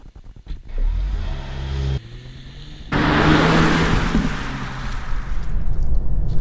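A 2021 Mercedes-Benz E450 4Matic All-Terrain station wagon starts with a low engine rumble, then pulls away into a steady roar of engine and road noise that builds and holds, heard up close without talk.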